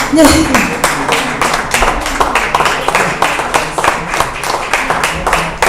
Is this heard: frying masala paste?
no